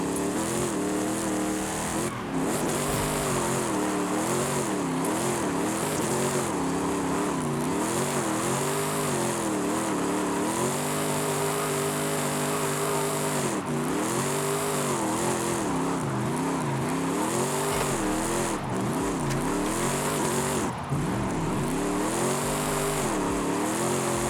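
A Cadillac CTS-V drifts in Forza Horizon 5, its engine revving and bogging in constant swells with tire squeal, loud and close throughout with no talk.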